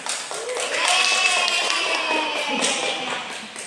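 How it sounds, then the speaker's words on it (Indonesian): Classroom applause for a student named Fahmi, a scattered patter of hand claps and taps beneath voices and background chatter, moderately loud and steady throughout. "Beri tepuk tangan untuk Fahmi."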